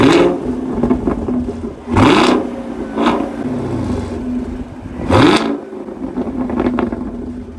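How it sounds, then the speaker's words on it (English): A 2019 Chevrolet Camaro SS 1LE idles with a low rumble, then its exhaust barks through two sharp, loud revs a few seconds apart, each rising and falling back to a burbling idle, with lighter blips in between. "I will now give you the pleasure of hearing its wonderful exhaust."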